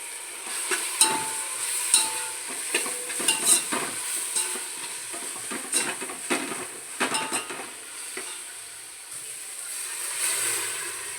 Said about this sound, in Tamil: வெங்காயம் நல்லா வதங்க ஆரம்பிக்குது